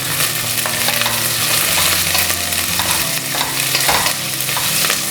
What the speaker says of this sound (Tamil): ஒரு 2 நிமிஷம் நம்ம வதக்கிக்கலாம்.